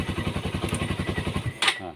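Honda CB150R motorcycle engine idling with a battery cable removed, a steady rapid thumping pulse that runs for most of the moment, then cuts out abruptly with a brief clatter as it stalls.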